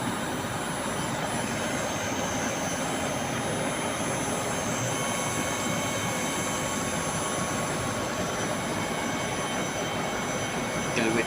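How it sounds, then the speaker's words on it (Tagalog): The compressor of a 3-ton Kolin inverter floor-standing air conditioner runs as a steady, loud, broadband whooshing hum with no breaks, close and continuous. "Now, also the compressor is working."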